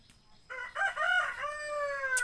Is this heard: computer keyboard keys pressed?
no